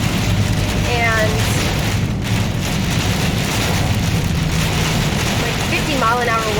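Heavy rain from a severe thunderstorm drums steadily on a car with wipers on full, a dense, constant roar that runs throughout with faint squeaks from the wipers.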